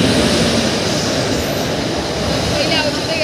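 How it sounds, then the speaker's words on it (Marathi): Matsyagandha Express rolls into a crowded platform with a dense, continuous rail rumble and screeching wheels, close and loud, while station crowd noise and voices mingle beneath it. "So मत्स्यगंगा express is here."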